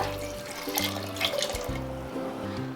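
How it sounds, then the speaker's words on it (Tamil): Water pours into a pressure cooker holding vegetables and lentils, a steady splashing and filling stream heard close under a low tonal hum from the kitchen. "காயும் பருப்பும் வேகிற அளவு தண்ணி ஊற்றிக்கோங்க"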